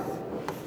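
Chalk or marker strokes on a classroom board, a brief scratchy scribble lasting under a second, close and fairly quiet with no voice over it.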